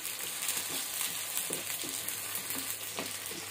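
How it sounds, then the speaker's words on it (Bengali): Potatoes fry lightly in oil with a steady bright sizzle, and soft intermittent stirring scrapes come through close by, with no talking. "তো এটার মধ্যে জাস্ট এই আলুটা একটু হালকা ভেজে নিব"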